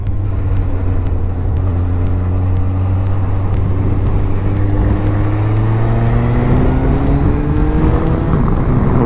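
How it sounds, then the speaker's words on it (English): A Suzuki Bandit motorcycle with a big four-cylinder engine runs steadily, its pitch climbing slowly as the revs build, loud and close with no talk. "The engine is so responsive. Wow, it's a big 4-cylinder."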